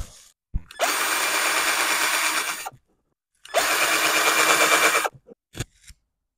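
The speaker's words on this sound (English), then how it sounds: "So I'm going to drill these four holes." A handheld power drill bores holes for a motorcycle saddlebag bracket on an Indian Scout, two loud, steady whirring bursts of about two seconds each separated by silence, followed by short clicks and taps.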